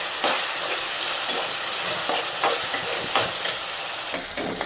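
Chopped tomato and onion sauté in a hot pan for a chana dal dumpling kuzhambu, giving a steady close sizzle with occasional scraping stirs and a few sharper clicks near the end.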